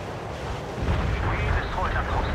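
A heavy artillery barrage in the game World in Conflict, deep rumbling booms that build and roll continuously, loud and close.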